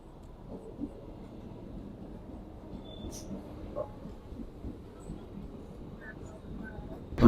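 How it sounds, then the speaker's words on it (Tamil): Suburban train bound for Arakkonam pulling into a station platform and rolling on, a steady low rumble with faint rattles and occasional squeaks, heard from close by. "நம்மளோட ட்ரெயின் பிளாட்ஃபார்முக்குள்ளே வருது"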